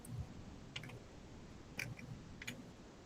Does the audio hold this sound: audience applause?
no